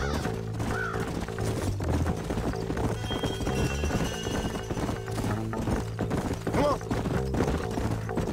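Hooves of horses in the Red Dead Redemption video game clip-clop steadily over a dense game soundtrack, with a brief neigh and a few bird calls in the background.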